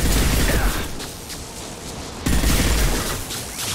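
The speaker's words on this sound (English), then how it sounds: "Good shooting, Tally, good shooting" Sustained automatic gunfire from a Mass Effect 2 firefight with mercenaries, a dense, loud burst of shots that briefly eases and then resumes at full intensity.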